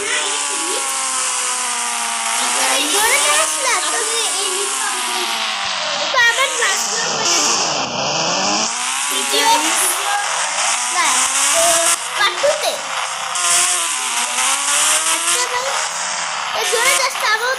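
A boat engine in the mobile game Indian Bike Driving 3D drones and whines continuously, rising and falling in pitch as it revs. A voice talks over it throughout.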